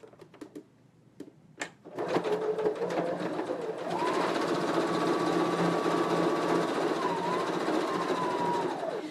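A sewing machine winds a bobbin in a steady, even whir that starts about four seconds in and runs to the end, following a few sharp clicks and a brief burst of stitching.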